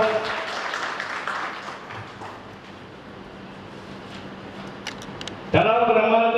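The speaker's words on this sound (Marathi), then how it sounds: "टाळ्या वाजवून जोरदार त्यांचं स्वागत करा" Audience applause welcomes the chief promoter of an organisation onto the stage at a meeting: steady crowd clapping runs for about five seconds, then a voice starts over it near the end.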